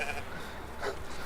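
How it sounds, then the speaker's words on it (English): A short sheep bleat from the video game Medieval Dynasty, fairly faint and brief, heard within a blurred wash of background game sound. "a lot of them sounded like normal sheep noises"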